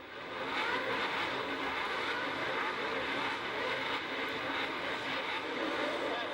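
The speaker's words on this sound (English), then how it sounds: "As the noise rose to a crescendo, the pack took off in a haze of exhaust fumes and tyre smoke" A loud, sustained roar of Formula One racing engines at a 1971 race start, steady and dense throughout, like a field of cars accelerating together nearby.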